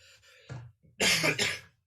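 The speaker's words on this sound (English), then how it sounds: "I'm getting over a cough." A person coughs close by: a short throaty cough, then a harsher double cough, with brief quiet between.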